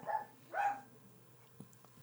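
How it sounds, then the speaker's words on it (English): A small puppy yips twice in quick succession, then gives a faint third bark, close by and fairly quiet in a calm room. "Is that a puppy?"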